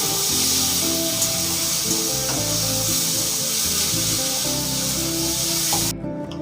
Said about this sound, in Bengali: ভালো করে নাড়াচাড়া করে ভাজা করে